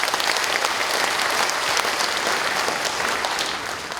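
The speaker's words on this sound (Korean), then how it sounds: "큰 박수 한번 주시죠." A big round of applause at a Gunwi County forum on military–civilian coexistence, dense continuous clapping from a crowd throughout, easing slightly at the end.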